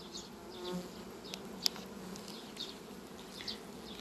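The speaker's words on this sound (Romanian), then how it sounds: "Albinii vor veni aici în spate și vor lua un pic de condens." Honeybees buzz around a hive, a faint continuous drone with a few single bees passing close by, no voices present.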